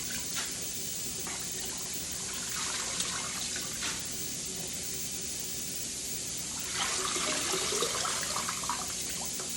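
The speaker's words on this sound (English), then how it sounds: "Now I'm moving the greens over to the second part of the sink." Collard greens swished and agitated in a water-filled kitchen sink, giving a steady close trickle and slosh of water with a brighter splashing burst near the end.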